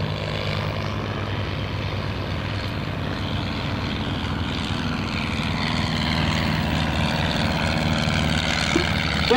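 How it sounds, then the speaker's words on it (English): A Stinson L-5 propeller aircraft takes off at a World War II weekend event, its engine droning steadily and loudly with a buzzing propeller tone that swells slightly toward the end. "that's the Stinson going off."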